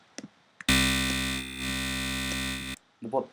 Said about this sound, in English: These 2 are distortion sort of things